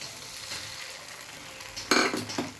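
Cornflour slurry being stirred into chilli soya chunks in a pan: a quiet stretch, then a burst of spoon scraping and wet sizzling toward the end, close and moderately loud.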